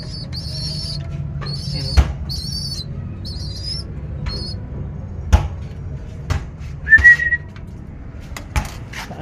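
Birds give repeated thin, high whistled calls in short bursts early on, then a single brighter call later, with light rain pattering and occasional thumps around them; a voice speaks one brief word.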